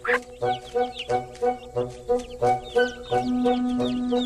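Chickens clucking close by in a regular rhythm of short repeated clucks, with a few higher chirps and a brief sustained tone near the end.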